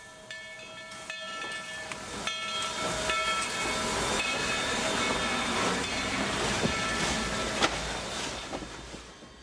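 Steam locomotive number 300 of the Texas State Railroad pulls out of Jarvis station, with hissing steam, metallic clanks, and rolling rail noise building steadily, a sharp bang near the end, and no one talking.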